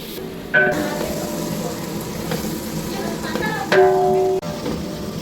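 A large batch of about one and a half kilos of onions fries for biryani, a steady sizzle with stirring clatter and brief tonal scrapes, while voices talk faintly in the background.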